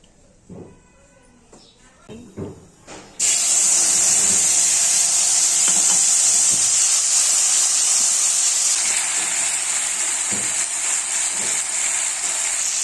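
Bay leaf, dried chilli and chilli powder hit hot oil for a vegetarian Shiv charchari, bursting into a loud, steady, close sizzling hiss after a few quiet soft knocks at the start.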